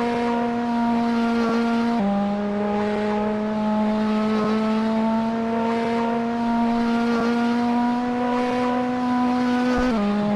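A race car lapping a circuit in a tidy run, its engine holding a loud, steady high-revving drone close by, with brief pitch drops at gear changes near the start and end.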